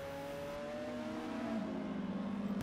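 A high-revving V12 car engine in the racing game Assetto Corsa drones steadily with a rising pitch partway through, close and loud, with no voices.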